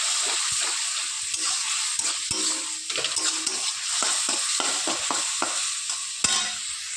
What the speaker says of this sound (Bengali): আলুর সঙ্গে মশলাটাকে বেশ সুন্দর করে কষিয়ে নেব